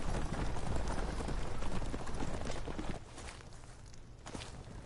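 Horse hooves clip-clop in the video game Dynasty Warriors Origins, a brisk run of close footfalls that grows quieter and sparser partway through, with no talking.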